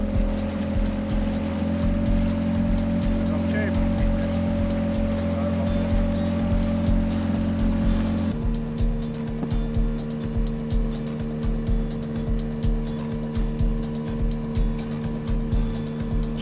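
A Mercury ME9.9 outboard motor, a 169 cc Tohatsu-built 9.8 hp unit being broken in, drones steadily as the boat planes over water, with a shift in engine note midway and constant splashing hull noise.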